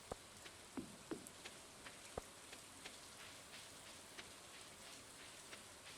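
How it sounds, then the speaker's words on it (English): Rain falls steadily in the video game Stardew Valley, a soft continuous hiss with scattered faint drip-like ticks, quiet and without voices. "it looks like you're just gonna walk around in the rain"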